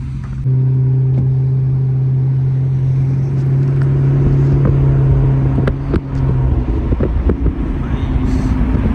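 Three modified cars, one of them a Nissan, idle together and then pull away at an auto show; a loud, steady engine drone with buzzing tonal hum dominates, then gives way to a rising rumble and rough wind-buffeted noise near the microphone.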